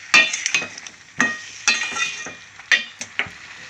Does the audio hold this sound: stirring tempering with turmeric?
yes